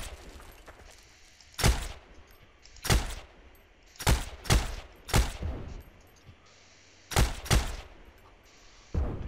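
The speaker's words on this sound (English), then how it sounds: "they've got a machine gun!" Machine gun fire in the video game Heroes & Generals: several loud, short bursts with irregular gaps between them, over a low background hum.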